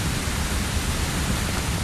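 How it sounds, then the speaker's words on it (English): Niagara Falls pours into the gorge with a dense, unbroken roar of rushing water, loud and steady throughout with no pauses or other sounds. "36 million gallons of water flow over the falls into the raging Niagara Gorge"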